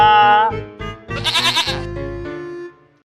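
A goat bleats loudly and close by in a few wavering, quavering cries that rise and fall, then fade out after about three seconds.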